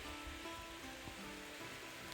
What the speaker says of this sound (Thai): ฝนตกแล้วเปียกเนาะ